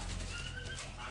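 Birds held in an illegal market storage warehouse, with a steady wash of chirping and cooing over a dense, continuous background din.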